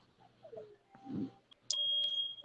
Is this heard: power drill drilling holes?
no